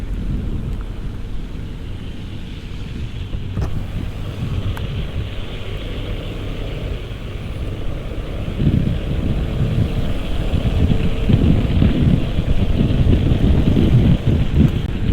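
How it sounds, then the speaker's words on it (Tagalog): Heavy rain pours steadily around a vehicle giving free rides, a dense, loud rushing roar with low rumbling that swells in intensity during the second half. "Lakas ng ulan."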